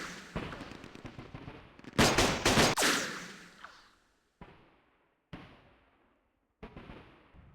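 Gunfire in the Vietnam War strategy game Campaign Series Vietnam: a dense burst of rapid shots rings out, then three separate loud reports each trail off into echo, with no voices.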